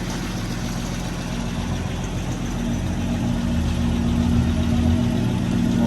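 Vintage Ford Falcon engine idling while it warms up, a steady low rumble with a slight rise in level toward the end, close and continuous, no voices.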